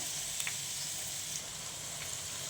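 Eggs cooking in a pan over a low flame give off a soft, even sizzle and hiss, quiet and continuous, with a couple of faint light clicks and no speech.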